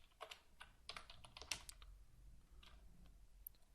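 Computer keyboard keys tapped in quick, uneven bursts while Android app code is entered, light and close with short pauses between runs of keystrokes.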